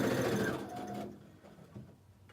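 A sewing machine stitches pieced quilt block scraps in a steady loud run that stops about halfway through, followed by quieter handling sounds.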